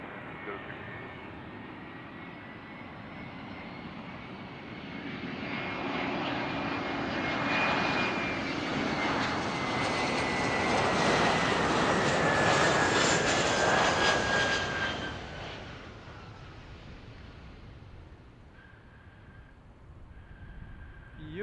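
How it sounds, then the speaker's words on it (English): A fixed-wing aircraft departs runway 28 at Zurich Airport, its engine roar building steadily, peaking loudly mid-clip and then fading into the distance as the plane climbs away. "Itero 571 is clear for takeoff for runway 28."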